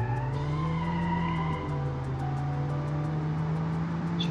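A car in BeamNG.Drive without ABS skids under the handbrake, a sustained tire squeal over a steady engine drone, loud and close with no talking.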